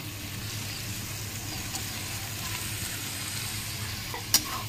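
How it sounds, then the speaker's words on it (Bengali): Fried paneer, potato and peas drop into oil-rich masala in a pan, setting off a steady, close, even sizzle that runs throughout, with a single sharp clink near the end. "এবার ভেজে রাখা পনির আর আলু আর মটরটা দিয়ে দেবো।"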